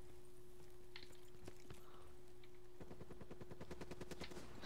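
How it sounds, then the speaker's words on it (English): Gunfire in Call of Duty Black Ops 3 multiplayer with custom mods: scattered single shots early on, then a rapid automatic burst of evenly spaced cracks in the last two seconds over a steady background hum. "Somebody's shooting."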